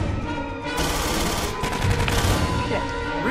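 An automated sentry turret fires in Aliens: Colonial Marines multiplayer, rapid sustained bursts of gunfire that build louder after a moment over a steady hum, with faint voices mixed underneath.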